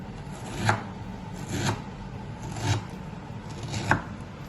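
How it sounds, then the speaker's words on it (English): A knife chopping peeled ginger on a cutting board, four spaced, moderately loud chops with quiet pauses between them. "I'll chop this"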